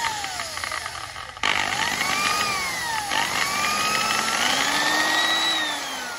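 A Makita power drill with hammer function, reverse switch and variable speed control runs with rising and falling pitch as the trigger is worked, loud and close, with a brief dip partway through and faint talk nearby.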